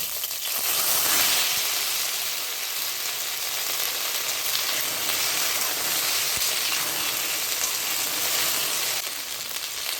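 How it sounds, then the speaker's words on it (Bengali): Cut pieces of washed taro (gathi kochu) frying in hot oil in a home kitchen, a steady, dense crackling sizzle that holds loud and even throughout with no talking. "এই তেলের ভিতরে এই যে ধুয়ে রাখা বা কেটে ধুয়ে রেখেছি এই গাঁটি কচুগুলো দিয়ে দিচ্ছি।"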